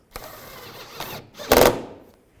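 Headlight bolts on a 2015-2020 Cadillac Escalade are tightened in three short, close mechanical bursts, the last one loudest, with quiet pauses between.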